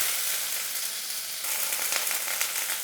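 Soaked chana dal frying in hot oil with popped mustard seeds, a steady close crackling sizzle that intensifies partway through, with no talking.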